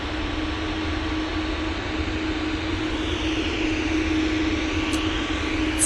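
A jet airliner departing Manchester Airport for Kalamata, a steady broadband engine roar with a low hum, sustained and fairly loud throughout, with no voices.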